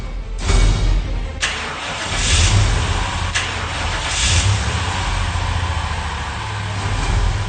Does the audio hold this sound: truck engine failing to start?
yes